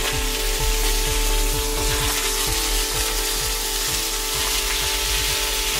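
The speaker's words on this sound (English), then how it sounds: "and then you'll take the scallops, place it on there, and you just want to sear it." Scallops sear in hot olive oil close up, a loud steady sizzle peppered with many quick crackles and pops, without any voices.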